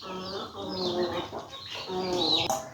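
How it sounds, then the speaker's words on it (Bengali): A hen with very small chicks in a farmyard, giving close, steady clucking with higher chirps mixed in, continuing without pause for a few seconds. "এইখানে একটা মুরগি বাচ্চা নিয়ে আছে, ছোট ছোট বাচ্চা, অনেক ছোট বাচ্চাগুলো, অনেক ছোট।"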